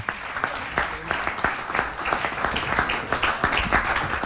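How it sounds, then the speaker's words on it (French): Audience applause at a radio fair event honoring a TV chronicler: steady, dense clapping from a crowd with sharp individual claps standing out, moderately loud and continuous throughout. "on peut l'applaudir"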